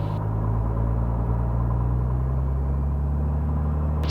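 A Piper Comanche 250 aircraft engine runs steadily at 1500 RPM during a run-up, producing a constant deep, loud throbbing rumble with strong low tones and no speech.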